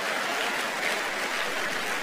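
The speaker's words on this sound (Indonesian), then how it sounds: "Tepuk tangan buat yang merokok ya." A congregation at a church sermon breaks into applause, an even, continuous crackle of many hands clapping at moderate volume for about two seconds.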